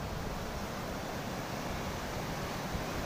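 Ocean waves at Murudeshwar beach, heard as a faint, steady wash of surf mixed with wind noise, with no distinct single crash and no voices.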